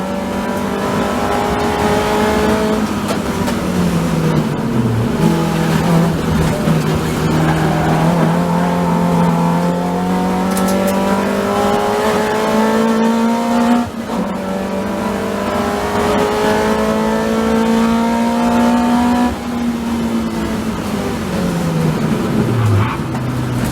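Race cars lapping Oulton Park circuit during a TDT race, engines droning loud and steady with rising and falling revs as cars pass and shift, without any speech.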